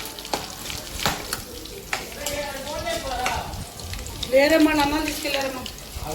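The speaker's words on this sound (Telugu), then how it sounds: "ఇప్పుడు ఈ కరివేపాకు వేసిన తర్వాత ఎర్రగా వేగనిచ్చి" Curry leaves frying in hot oil in a pan for a Telugu ridge gourd yogurt chutney, giving a steady close sizzle with crackling bursts under someone talking throughout.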